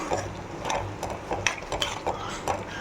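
Tomatoes with salt for prawn biryani are stirred and scraped in a pan, giving soft irregular clinks and scrapes of a utensil against metal over a faint sizzle, fairly quiet with no talking.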